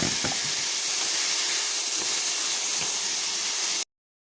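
Cauliflower, carrots, green beans and broccoli with paprika sautéing in a pan give a steady, close sizzling hiss with a few faint clicks, stopping abruptly just before the end.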